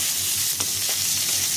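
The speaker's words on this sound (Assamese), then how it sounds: "এতিয়া মই কেৰাহী এটাত অকণমান তেল দিছোঁ, তাতে পিঁয়াজ দি পেলাই মই ভাজিছোঁ" Onions fry in a little oil in a kadai with a steady, loud, close sizzle. A few brief stirring scrapes break through, and no one speaks.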